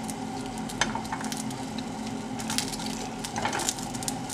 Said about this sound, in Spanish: vamos a poner nuestros jitomates para que se tatemen aquí. También vamos a poner aquí nuestro ajo, nuestra cebolla